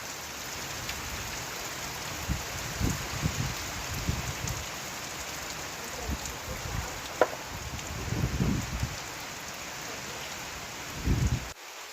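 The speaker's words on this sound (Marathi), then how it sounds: "आज पुन्हा पावसाचा रुद्ररूप एकदम वारं पाऊस आहे जोरात" Heavy rain with wind at a village home in the Konkan countryside, a steady close wash of falling water with occasional gusty surges and scattered drips, and no voices.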